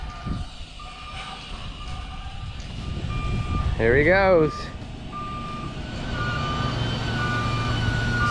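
A cotton module truck hauling a module to the gin reverses nearby, its engine rumbling under a short burst of loud warbling beeps, with someone speaking briefly over the noise.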